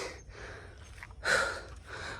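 Heavy, labored breathing from someone out of breath while climbing a hill to an ashram at Arunachalam: faint, close, uneven breaths, with one sharper gasp-like exhale near the middle.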